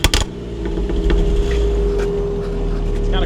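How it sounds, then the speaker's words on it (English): A car engine on a track car being built for the Nürburgring, revved from behind, holding a steady low droning hum with a slight swell, close and continuous after a brief clatter at the start. "Get a little rev from behind."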